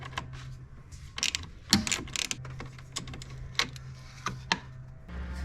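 A 12mm ratchet tightening a bolt during an intake manifold runner control repair on a Hyundai Sonata, a quiet series of small mechanical clicks and taps in irregular bursts.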